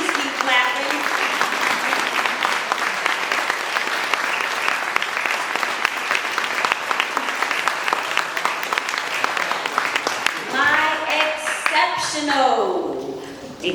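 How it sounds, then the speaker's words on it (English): An audience applauds at an organization's annual state-of-the-organization event, a dense, steady wash of many hands clapping that carries on before a voice begins speaking near the end. "Please keep clapping."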